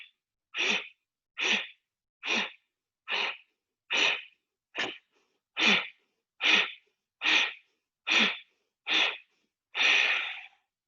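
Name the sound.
Ujjayi breathing during yoga pulses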